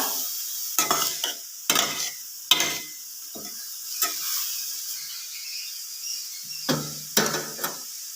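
Salted grated green papaya thoran stirred in a pan, giving a run of separate scraping, clattering spoon strokes at an irregular pace over a soft, steady sizzle, close and fairly loud, with no voices.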